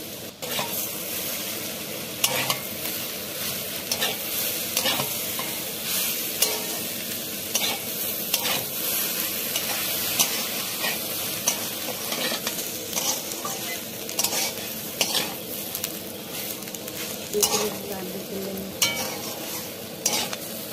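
Pieces of roti stirred and fried in a pan, a continuous bright sizzle with repeated scraping stirs and light clinks of a utensil against the pan, close and steady with no talking.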